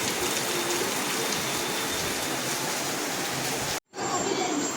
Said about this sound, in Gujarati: વરસાદ બહુ જ ફાસ્ટ વરસાદ પડવા લાગ્યો.